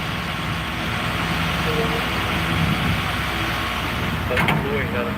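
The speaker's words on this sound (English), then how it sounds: "And tow trucks are loud." Heavy tow truck engine rumbling steadily in traffic, loud and close, with a brief mechanical whine near the end.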